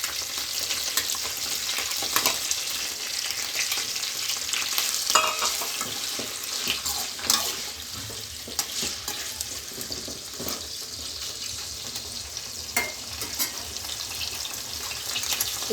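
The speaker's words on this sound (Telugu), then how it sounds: "ఫ్రై అయినాయి కదా ఇవి, చికెన్ వేసుకుందాం." Chicken frying in a pan for semiya biryani, a dense, steady sizzle with scattered crackles and a few stirring scrapes, heard up close without speech.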